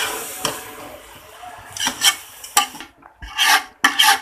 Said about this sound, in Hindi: चावल स्टेन कर लिए थे, ये इसमें डाल देंगे। इनको अच्छे से हिला लेंगे